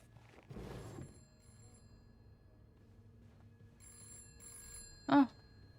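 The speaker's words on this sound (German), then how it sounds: "Telefon." A telephone rings inside a horror adventure game, a single short electronic ring standing out clearly against a quiet, low ambient background hum.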